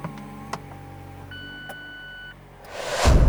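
Retractable hardtop of a Mazda MX-5 RF operating: a few sharp beeps and ticks, then a steady whining tone from the mechanism that stops, followed by a rising louder rush of noise at the end.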